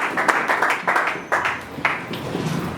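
Church congregation clapping together in a series of quick bursts that swell and fade, close and fairly loud, with a few voices calling out over it.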